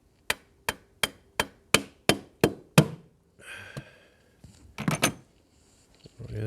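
A screwdriver pries loose a seal on a 2014 Nissan Maxima 3.5, a run of about nine sharp, evenly spaced taps followed by scraping and a few more irregular knocks, close and clear.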